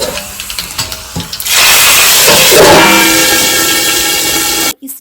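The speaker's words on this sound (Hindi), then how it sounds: "तेल गरम हो गया है, लहसुन और लाल मिर्च का तड़का लगाएँगे।" Loud, steady sizzling hiss of garlic and red chili frying in hot oil, starting abruptly after a few soft clinks and cutting off sharply near the end.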